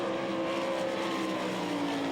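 Sprint race cars roar steadily around the Knoxville speedway dirt oval during the Knoxville Nationals, a loud continuous engine drone with a sustained pitch that shifts slightly as the pack passes, no voices.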